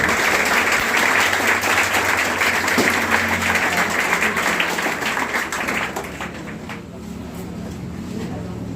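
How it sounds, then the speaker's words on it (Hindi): An audience at a Teachers' Day event by a class 11 group applauds to welcome a teacher onto the stage, a dense sustained clapping that gradually thins and fades. "जोरदार तालियों से LTD सर का स्वागत किया जाए।"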